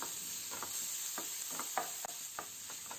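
Chopped onion with salt sautéing in oil in a pan, a soft steady sizzle broken by brief scraping stirs of a spoon at irregular intervals, close and fairly quiet with no talking.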